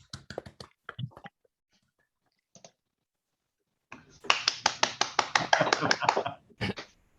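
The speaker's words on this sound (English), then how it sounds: "please unmute and turn on your camera and give a collective round of applause to everyone" Scattered claps and snaps from online meeting participants come through unmuted microphones, starting as sparse taps, then building into a denser burst of rapid, uneven clapping before trailing off into a few final claps.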